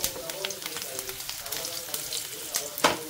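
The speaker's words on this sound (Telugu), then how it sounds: "ఇందులో అయితే నేను కొంచెం కరివేపాకు వేసుకుంటున్నాను" Curry leaves sizzle in hot oil with browned onions and green chillies, a crackling, popping fry with sharp bursts, while someone talks over it.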